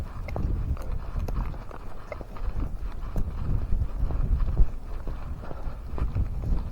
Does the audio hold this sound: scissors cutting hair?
no